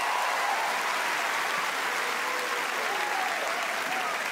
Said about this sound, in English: Round of applause for Harley.